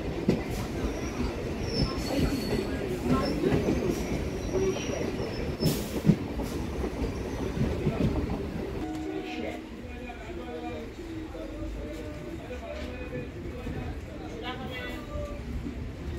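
An 8:40 Hasnabad–Majerhat local train via Princep Ghat pulls out of Madhyampur station with a steady rumble of wheels, squealing rails and rhythmic clatter of the cars, close and continuous.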